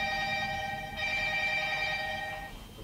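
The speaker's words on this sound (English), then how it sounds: "I thought I turned that phone off." A telephone rings continuously at low volume, a steady electronic ringing tone that holds for most of the stretch before fading out near the end, with no talk over it.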